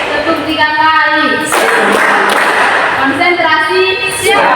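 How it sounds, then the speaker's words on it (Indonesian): A group of children in an inclusive class for visually impaired students clap in short counted bursts, loud and close, with a voice calling out between the sets of claps. "tepuk 2 kali, tepuk 3 kali"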